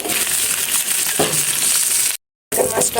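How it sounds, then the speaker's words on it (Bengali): Fish fries in hot oil in a pan, a loud, steady crackling sizzle with occasional stirring scrapes, cut by a short silent gap before the sizzling resumes. "মাছটা ভাজা শেষ, সুন্দরভাবে ভেজে নিয়েছি।"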